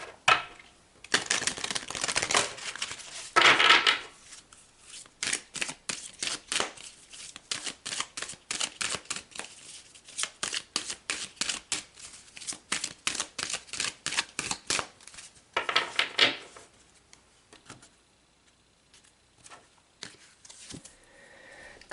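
Oracle cards are shuffled and pulled in quick flurries of close, crisp riffling and slapping. Bursts and pauses alternate throughout, with a few louder riffles standing out and a quieter stretch near the end.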